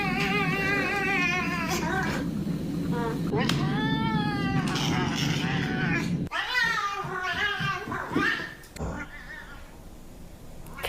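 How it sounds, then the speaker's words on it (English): A pet cat meows repeatedly in a chatty, conversational way, its cries rising and falling close by, with a person's voice talking alongside at times. "She thought all the meowing was a little unusual, but the vet told her Bean is just chatty."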